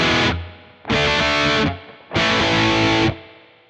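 Three loud bursts of heavily distorted electric guitar chords through an amp, each ringing about a second with brief gaps between, thick and saturated.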